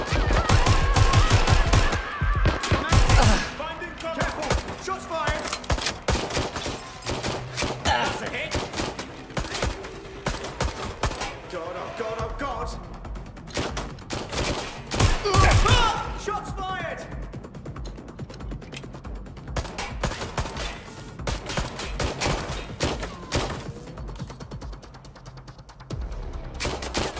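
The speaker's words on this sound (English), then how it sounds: "Shots fired!" Bursts of gunfire ring out in Watch Dogs: Legion, the opening of the Westminster operation, with rapid volleys and single shots clustered early and mid-way over a droning score, while voices talk in between.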